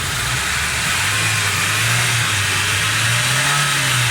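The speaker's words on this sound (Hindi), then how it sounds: "गाड़ी स्मूथ स्टिल हो गई है, साउंड बेहतरीन हो गया गाड़ी का" A Suzuki Cultus EFI engine runs smoothly at a steady, close idle after its tappet clearance has been adjusted. The loud, even hum rises slightly in pitch partway through, with no talking.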